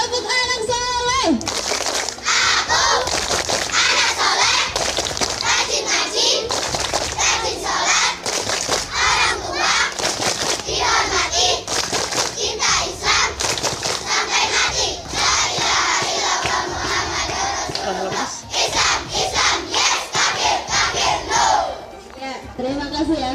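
Crowd of schoolchildren chanting the 'Tepuk anak soleh' clapping chant in unison, loud and close, with rhythmic hand claps and shouted phrases continuing throughout.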